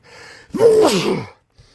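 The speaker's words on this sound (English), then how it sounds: "I gotta sneeze." A single close, loud sneeze with a sharp inhaled buildup and a burst of breathy noise, followed by quiet.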